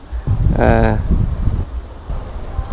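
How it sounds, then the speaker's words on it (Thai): Wind blows outdoors and buffets the microphone with a steady low rumble and hiss. A voice briefly speaks near the start. "ได้ยินเสียงลมครับ"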